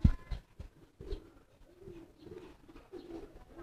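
A racing pigeon makes soft, low cooing phrases, faint and close, with a few light thumps and quiet background noise.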